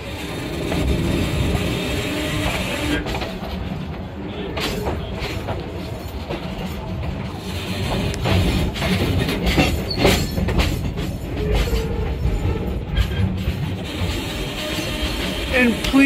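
A train backing in rumbles and clatters steadily at close range, its wheels clacking and occasionally squealing as it moves slowly along the track past a wye.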